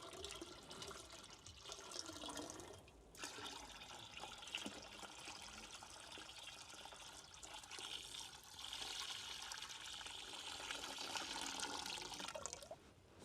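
Lime water (chuna pani) poured steadily into a container for a calcium spray on crops, a continuous close splashing stream running for several seconds with a short pause partway.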